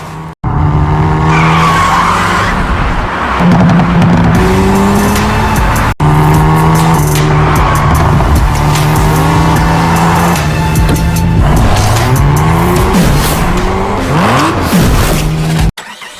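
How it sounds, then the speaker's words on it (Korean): A Hyundai Veloster N with an active variable exhaust system roars loudly and continuously, its engine note rising and falling through repeated revs, with tire squeal mixed in and only brief breaks. "벨로스터인에 적용된 능동 가변 배기 시스템을 한번 살펴보겠습니다"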